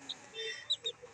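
Chickens in a pen let out a few short, soft clucks and chirps over about a second, close by, with no talking.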